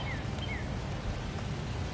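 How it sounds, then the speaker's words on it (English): Light rain falling outdoors in a vegetable and flower garden, a steady soft patter of drops, with faint bird chirps early on and no talking. "It's raining a little bit"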